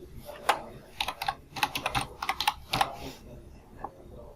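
Java code is typed on a computer keyboard in short irregular bursts of crisp key clicks, close and clear, with brief pauses between clusters of strokes.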